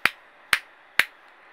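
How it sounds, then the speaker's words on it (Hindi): Three sharp, evenly spaced slaps of the right index and middle fingers against the left palm, about half a second apart, close and crisp with no talk in between. "राइट हैंड का जो इंडेक्स और मिडिल फिंगर है उससे तीन बार ताली बजाएंगे लेफ्ट हैंड पे ऐसे"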